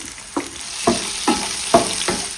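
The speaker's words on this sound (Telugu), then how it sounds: "ఇప్పుడు ఇందులో పచ్చిమిరపకాయ ముక్కలు యాడ్ చేద్దాం." Green chilli pieces fry with onions in a hot pan, a steady sizzle broken by four or five regular scraping stirs, close and clear with no talk.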